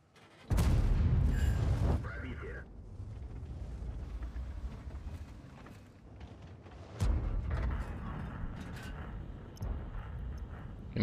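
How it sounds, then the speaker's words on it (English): High-explosive tank shells fire from a tank in World of Tanks, with a heavy, close boom at the start and two more about five and seven seconds later, each followed by a sustained low rumble of battle ambience. "He's still shooting high explosive."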